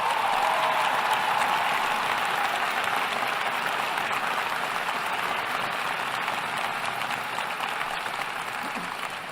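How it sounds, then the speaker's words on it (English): An audience at a Chicago mayoral swearing-in applauds the city council aldermen with steady, dense clapping that fills the room and tapers slightly toward the end. "Let's give them a round of applause."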